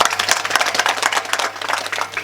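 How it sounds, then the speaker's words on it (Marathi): An audience at a kirtan claps in a quick burst of applause, dense and close, lasting a couple of seconds. "टाळी वाजवा एकदा."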